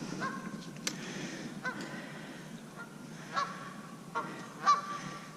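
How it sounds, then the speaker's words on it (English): Geese honk repeatedly near a spring bass fishing spot in the New York suburbs, the calls irregular and moderately distant over quiet outdoor background. "These geese sure have a lot to say today."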